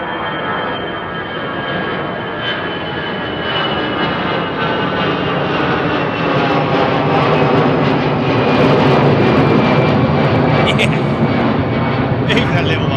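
A Ryanair jet airliner passes at Heathrow Airport with a broad, steady engine roar that swells gradually toward the end. No voices are audible over it.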